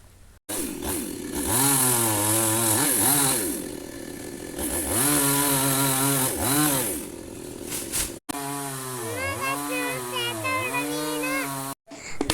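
A chainsaw engine revs loudly up and down in close, sustained bursts while cutting a tree, with a short pause between runs.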